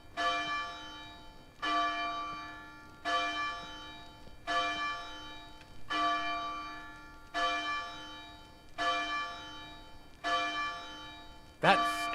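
A bell in ARK: Scorched Earth tolls eight times in an even, unbroken rhythm, every strike bright and resonant with a lingering fade, ending in a short burst of noise.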